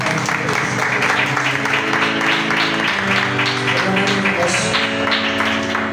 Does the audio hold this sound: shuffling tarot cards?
no